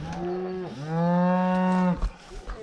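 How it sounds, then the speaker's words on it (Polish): Cattle in a herd being driven to a new pasture on a farm, one long loud moo rising and falling close by, followed by quieter shuffling and another short low call. "prowadzę stado na kolejne pastwisko"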